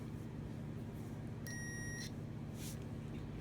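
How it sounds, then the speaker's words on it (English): A multimeter set to ohms gives a half-second continuity beep, a clear high tone over steady low engine-room hum, with a faint second chirp shortly after. "so you can hear the beep"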